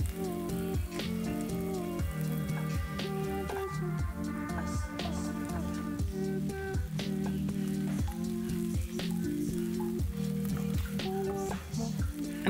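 Sliced onions caramelizing in a sugary pan give off a steady, close sizzle and crackle. Regular scraping strokes of stirring break in every second or so, with no talk.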